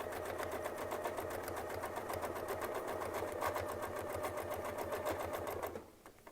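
A Westalee Spin E Fex 14 series ruler guides a quilting sewing machine as it stitches a quilt, its steady rapid needle chatter running unbroken and close before stopping abruptly near the end.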